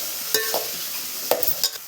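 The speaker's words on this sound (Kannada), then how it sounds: "ಅದನ್ನು ನೀಟಾಗಿ ಬಾಡಿಸ್ಕೊಂಡು ಫ್ರೈ ಮಾಡ್ಕೋಬೇಕು" Chopped vegetables for vegetable rice fry in hot oil with a continuous close sizzle, punctuated by three sharp scraping stirs of a spoon against the pan.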